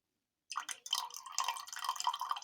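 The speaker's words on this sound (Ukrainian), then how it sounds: "І заливаємо розчин солі." Salt solution diluted with distilled water poured into a vessel while refining silver from 1875 five-kopeck coins; after half a second of silence, close, bright trickling and dripping liquid runs continuously for two seconds.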